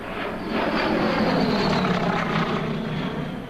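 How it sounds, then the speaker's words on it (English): In the Winter War strategy game Order of Battle, a fighter aircraft passes overhead as a steady, droning engine roar that swells and fades, with no talking. "The fighter's back. And there's some other aircraft running around."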